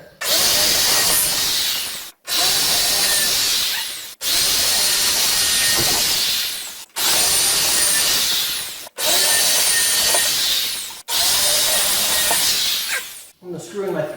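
A power drill pre-drills holes in wood for sturdy garage wall shelves, running in six loud, steady whirring bursts of about two seconds each, separated by brief pauses, close to the listener.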